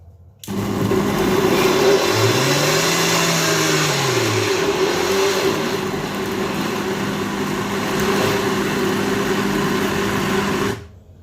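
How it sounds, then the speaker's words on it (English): A small kitchen grinder runs loud and steady for about ten seconds while it grinds potatoes, with its motor pitch dipping and rising briefly near the start as the load shifts. It starts abruptly and cuts off cleanly, with no talk over it. "I'll add the potatoes bit by bit because my grinder is quite small and might not take the whole quantity."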